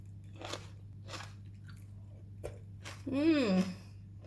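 A few soft crunchy bites and chewing of bok choy with shiitake mushroom, followed by a brief squeaky vocal noise near the end; quiet and close.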